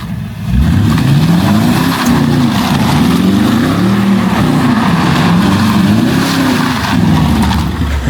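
A Jaguar S-type drift car's engine revs up and down in repeated deep, loud swells, one rising and falling pull after another with a rough, throaty rumble and no talking.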